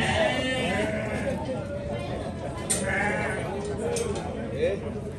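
Goats bleat among the livestock at an animal fair in Senador Rui Palmeira, Alagoas, giving a few wavering cries over busy background chatter while people talk nearby.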